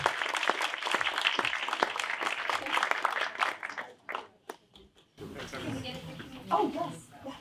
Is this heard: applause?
yes